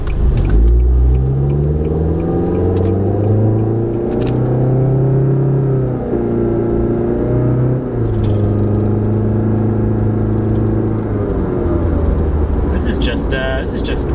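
A Nissan Juke's engine revs up and eases off repeatedly in sport mode, a close, deep rumble rising and falling in pitch.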